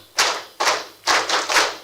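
A crowd claps a five-beat rhythm back together, three evenly spaced claps followed by a quicker pair, moderately loud over a faint hum.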